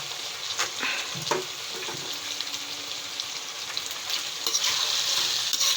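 Potatoes, peanuts and brinjal in a mixed vegetable dish sizzle steadily in a pan while a spoon stirs through them with scraping clicks, the frying hiss swelling toward the end.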